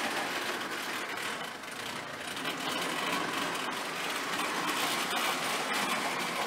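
A Marx Cape Canaveral Express toy electric train whirs continuously along its track, a steady buzzing motor hum with rattling wheels, close and fairly loud.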